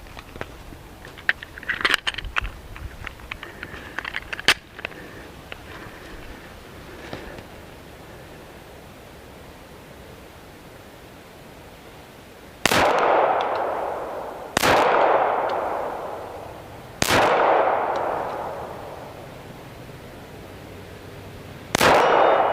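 A Glock 30SF pistol in .45 ACP fires four loud, sharp shots outdoors at a 40-yard target, each with a ringing decay, after some scattered light clinks and handling noise.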